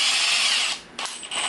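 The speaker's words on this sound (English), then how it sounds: "I want to take a bit and I just want to pilot the holes" Power drill boring pilot holes in walnut for a sculpted side table, a close high whirring burst that eases off, then two short spins of the bit.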